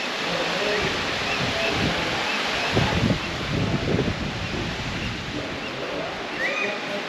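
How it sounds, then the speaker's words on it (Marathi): The Marleshwar waterfall near Sangameshwar in the Konkan roars steadily, a dense, continuous rush of falling water that fills the whole stretch with broadband noise, with some faint rumbling in the mix. "हा जो धबधबा आहे ना, मार्लेश्वर धबधबा, तो हा समोरचाच आहे"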